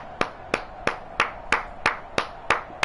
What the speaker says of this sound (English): The long clap.